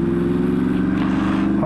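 A flashed 2018 Yamaha R1 with a cat delete and a Graves carbon slip-on exhaust gives a close, loud, steady engine drone with faint rapid crackles, heard alone for a brief moment.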